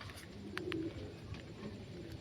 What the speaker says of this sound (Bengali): তোমাদের পায়রাগুলো দেখে নাও, সব সুস্থ ফিট অ্যান্ড ফাইন পায়রা আছে।